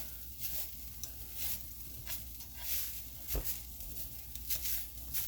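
Lean ground meat fries in a pan as the grease cooks off, with a faint, close sizzle broken by small crackling pops at irregular intervals.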